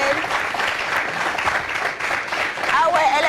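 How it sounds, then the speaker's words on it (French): A studio audience at an RTB aperitif talk show applauds to welcome Lova Belle, a steady crowd clapping with voices talking and exclaiming over it toward the end. "Applaudir pour accueillir Lova Bell."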